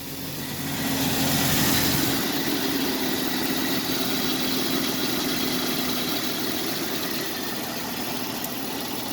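Jeep Cherokee XJ engine starting and then settling into a steady idle, a continuous low rumble with a faint whine, close and unbroken by speech.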